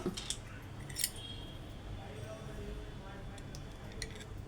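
A spoon stirring honey into melted ice water, heard as sharp clinks against the glass near the start and again later over a soft, low background.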